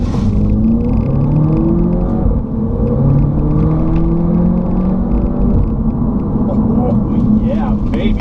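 A 2016 Audi TT engine pulls hard through its gears, loud and close from inside the cabin, the pitch rising then dropping at each shift before climbing again.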